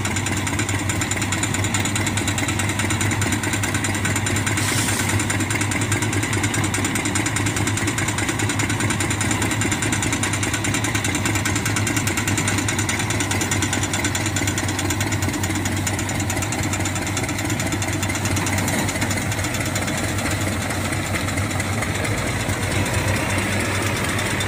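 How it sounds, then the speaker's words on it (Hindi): A New Holland tractor's diesel engine runs steadily and close up, a loud, continuous knocking chug with constant vibration and no talking throughout. "ये न्यू होलैंड ट्रैक्टर जा रहा है घड़ा लेने।"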